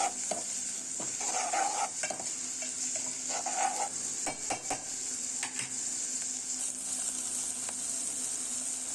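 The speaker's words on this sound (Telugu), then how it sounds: "పచ్చిమిర్చి పేస్ట్ కూడా వేసేసుకోవాలి. వేసుకొని అంతా ఒకసారి కలుపుకోవాలి" Green chilli paste being stirred into a hot frying pan of broad bean curry, a steady sizzle under repeated spatula scrapes and taps against the pan.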